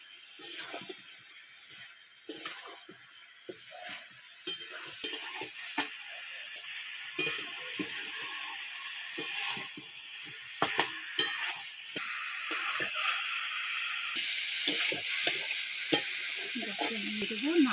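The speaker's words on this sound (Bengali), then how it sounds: "আমি এবার দিয়ে দেবো ভেজে রাখা ফুলকপি আর ডিম, একসাথে করে কষিয়ে নেব।" Fried cauliflower and eggs for an egg malai curry are stirred in a sizzling pan with spicy masala, giving steady frying hiss and repeated scraping stirs close by over about eighteen seconds.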